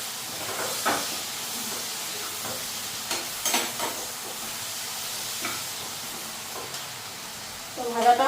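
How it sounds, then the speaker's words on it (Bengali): Vegetables frying in a pan, a soft steady sizzle with occasional stirring scrapes and clinks, close and moderate in level, with a brief voice near the end. "চিন্তা করলাম ভাজাটা বসাই নিলাম"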